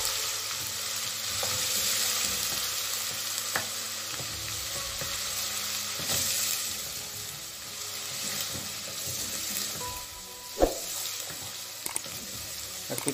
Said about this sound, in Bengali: এখন আমি আদা রসুনটা দিয়ে দিলাম।